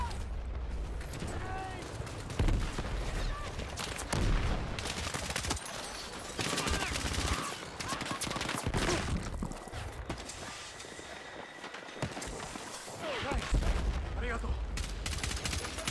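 Rapid, repeated gunfire from Battlefield 6 in close and distant bursts, with booming shots and battle noise layered throughout and a player's voice talking over it at times.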